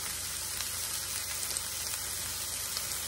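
Sausage, peppers and onions sizzling in a pan, a steady bright frying hiss that holds at an even level throughout with no talking.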